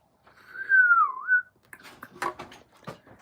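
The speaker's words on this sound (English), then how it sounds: "I wasn't whistling for you, I was just whistling in general" A person whistles a single short, clear tune that slides down and back up in pitch, followed by quiet rustling and handling sounds.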